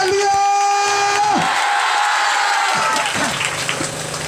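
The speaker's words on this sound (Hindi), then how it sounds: "कितना लोग विश्वास करते हैं? ताली बजाकर प्रभु के नाम को महिमा करेंगे।" Church congregation clapping in praise during a Hindi-language worship service, a dense, steady wash of applause with a raised voice and sustained tones carrying over it.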